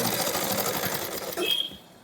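A sewing machine runs in one continuous buzzing stretch while stitching the back seam of a shirt, close and fairly loud, slowing and stopping near the end.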